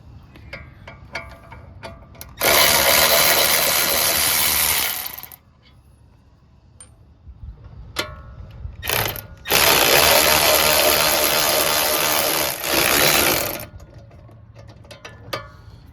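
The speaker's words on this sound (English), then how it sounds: "now I'm gonna finish removing the bolts with this magic power tool" Two long, loud bursts of a power tool whirring and rattling as it removes bolts from the front brake of a Dodge Durango, separated by a short pause with a brief blip between them.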